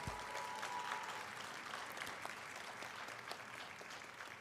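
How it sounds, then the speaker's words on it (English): An audience at a university Founders' Day celebration applauds an award recipient, a broad wash of many hands clapping at a steady level that slowly tapers. "Give her a round of applause"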